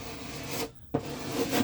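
Sanding or fairing fiberglass to remove surface stipple, a close steady abrasive rasp in two strokes with a short pause between them.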